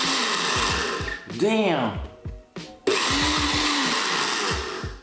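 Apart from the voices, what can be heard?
blender mixing McDonald's food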